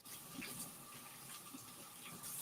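Tap water running steadily into a sink in a home kitchen during baking, a soft continuous splashing stream at moderate distance, fairly quiet and unbroken.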